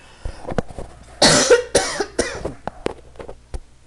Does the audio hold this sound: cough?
yes